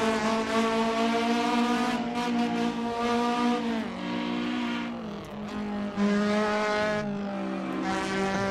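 A car engine revving hard on empty industrial-area roads in the Assetto Corsa racing game, loud sustained harmonic engine whine rising and dropping through repeated throttle blips and gear changes, with no talk.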